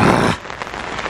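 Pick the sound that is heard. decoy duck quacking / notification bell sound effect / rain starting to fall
rain starting to fall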